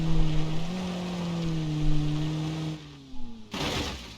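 A damaged, overheating car in a BeamNG.drive dirt-track race gives a loud, droning engine tone with a sustained buzzing pitch that sags in its last seconds. It cuts out briefly, and then a harsh burst of noise follows.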